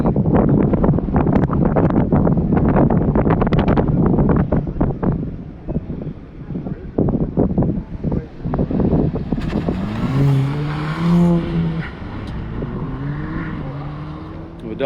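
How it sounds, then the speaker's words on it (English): A Toyota Mark V Supra race car from Toyota PE at an airfield event, its engine roaring loud and close before fading into distant droning, with wind buffeting the microphone and a voice speaking over the later part. "Now we got one of the Mark V Supras."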